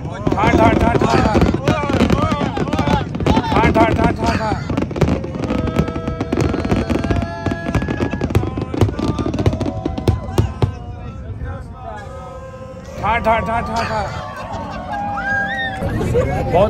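A fireworks show seen from a Chicago boat tour fills the air with repeated booms and crackling, while a crowd chatters and cheers loudly nearby, thinning toward the end.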